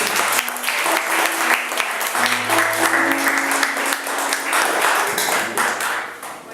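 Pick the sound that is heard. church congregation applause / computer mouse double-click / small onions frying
church congregation applause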